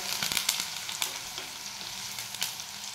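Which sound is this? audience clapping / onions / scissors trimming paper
onions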